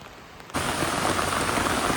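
Rain suddenly starts pouring in the hill villages of Idukki, a dense, steady hiss of heavy rainfall that stays loud and close after a quiet opening.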